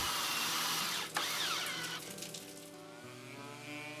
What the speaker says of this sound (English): Then install 2-inch deck screws in each hole.